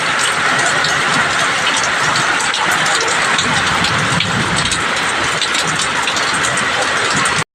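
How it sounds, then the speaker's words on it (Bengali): Heavy rain pouring down outside a home, a loud, dense, unbroken hiss of drops pounding surfaces nearby, steady from start to finish and cutting off abruptly at the end, with no talk. "এই দেখো বৃষ্টি পড়ছে।"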